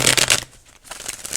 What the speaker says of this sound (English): I'm shuffling the hell out this deck.